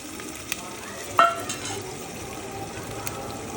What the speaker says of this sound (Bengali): আমি এবার দিয়ে দিচ্ছি আদা রসুন বাটা